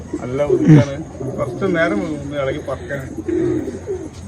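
Pigeons cooing inside a wire-caged loft, repeated throaty warbling coos close by and fairly loud, overlapping with people talking.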